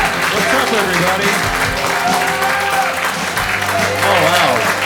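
Studio audience at a comedy show at Imposters Theater applauding a comedian, a steady dense wash of clapping with the comedian talking over it.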